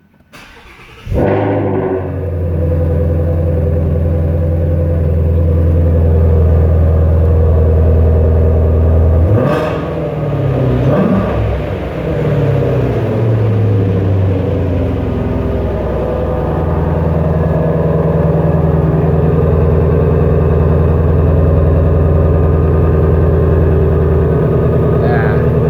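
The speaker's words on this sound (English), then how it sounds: "Little cold start here." A 2017 Ford Mustang GT350 engine cranks and catches on a cold start, then settles into a loud, steady, deep idle with a brief rev blip partway through, close to the car.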